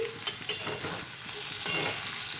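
Okra and potato frying with poppy seeds in a pan, a quiet short sizzle with a few soft stirring clicks and scrapes.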